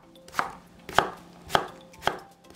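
A knife slices a halved cucumber into half-centimetre pieces on a cutting board, four crisp, evenly spaced chops landing about every half second, close and clear, with no talking.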